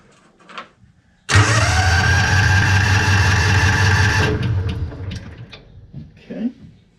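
The engine of a 2001 John Deere Gator 4x2, tried without choke, cranks loudly and roars for about three seconds, then dies away, with faint knocks before and after.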